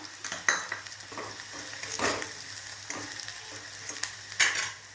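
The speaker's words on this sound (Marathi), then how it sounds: "आता ह्या मसाल्यांना तेल सुटेपर्यंत आपण ह्याला भाजून घ्यायचं" Ginger-garlic paste, garam masala and chopped tomato frying in oil in a pan for a dhaba-style dal makhani, a steady close sizzle broken by several louder bursts of stirring and scraping, with no voices.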